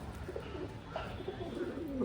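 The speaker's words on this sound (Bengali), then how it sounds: "দেখতে পাচ্ছ এখনও সব পায়রাই এখন এর ভিতরেই আছে" Pigeons coo inside their loft, soft, low, murmuring calls that overlap continuously at close range against a quiet background, with no speech.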